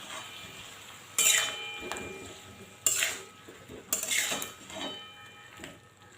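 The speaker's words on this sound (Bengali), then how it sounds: "এবার ভালো করে কষিয়ে নেব।" Jackfruit and potato curry with ground cumin and coriander is stirred and sautéed in a pan. A metal spoon clanks and scrapes in a few loud, separate strokes, with quieter sizzling between them.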